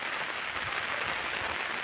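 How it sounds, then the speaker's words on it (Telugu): Heavy rain falls in a forest, a dense, even wash of close patter with no pauses and no voices. "ఇక వాన అయితే ఫుల్ పడుతుంది."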